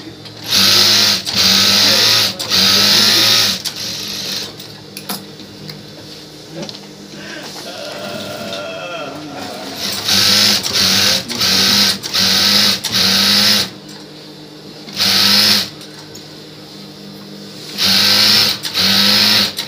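A sewing machine stitches a fabric cover for a fridge and water gallon, running in loud repeated bursts of a second or two with quieter pauses between, while a voice speaks in the gaps.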